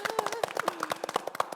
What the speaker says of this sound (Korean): 아, 두 분 박수.